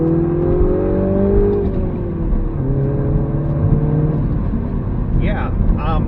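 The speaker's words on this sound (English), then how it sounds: "Oh, it has active rev matching." A 2017 Mini Cooper S in sport mode with active rev matching, its engine droning and shifting pitch under steady road noise from inside the cabin, with a voice talking over it throughout.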